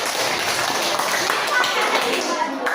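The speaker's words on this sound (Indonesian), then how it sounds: "Tepuk tangan untuk kawan-kawan" Classmates in a school classroom give a round of applause, a dense, quick, fairly loud clapping that runs steadily for a few seconds with children's voices mixed underneath.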